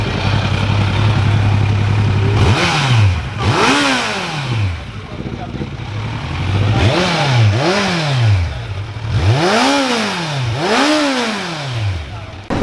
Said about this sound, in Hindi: बट वन लास्ट टाइम एक बार इसका स्टॉक एग्जॉस्ट सुन लेते हैं हम लोग।